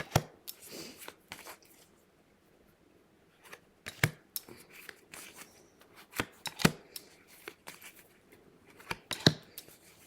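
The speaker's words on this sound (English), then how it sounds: "Okay, so let's start pulling cards." Tarot cards being shuffled and pulled from a deck, heard as quiet close bursts of riffling, flicking and sliding card sounds separated by silent pauses.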